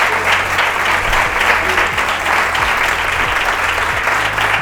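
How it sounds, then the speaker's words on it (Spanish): An audience at a conference on Málaga ice cream gives warm, steady applause, dense clapping holding at an even level throughout with a faint low hum beneath. "por favor un fuerte aplauso"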